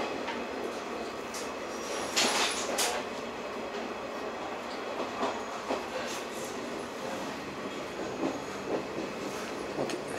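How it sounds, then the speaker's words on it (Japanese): SL Hitoyoshi steam locomotive train laboring up a steep grade, heard as a steady rumbling rail roar with clattering wheels and brief louder bursts around the middle, fairly close and continuous. "SL がこうきつそうに上がっていってるな。"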